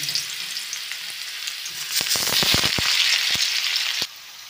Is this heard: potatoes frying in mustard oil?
yes